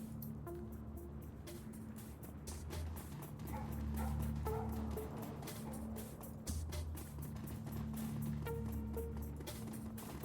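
Belial, a companion dog in the video game Shadowrun: Dragonfall, barks and yips intermittently over a steady low game ambience, the barks moderately close and not very loud.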